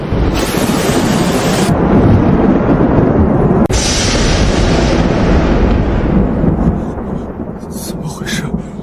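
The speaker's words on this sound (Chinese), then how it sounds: "这大冬天的，哪来的雷声？" Loud, sustained thunder rolls and crashes in winter, with a sharp break near the middle before the rumble swells again and then fades into quieter ambience.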